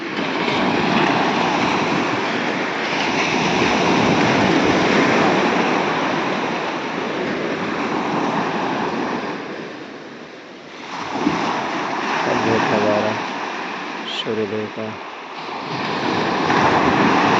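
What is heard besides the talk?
sea waves breaking on shore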